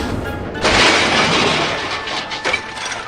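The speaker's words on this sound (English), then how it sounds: "Welsh Pony was coming with a passenger train, and he smashed right into the coaches." A cartoon crash as a steam engine hauling a passenger train smashes into coaches: a sudden loud impact burst with a breaking, clattering tail that settles into a rumbling hiss and a smaller knock.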